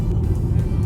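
Engine and road noise inside a 2024 Buick Envision while cornering, a low steady hum and rumble with a person talking over it.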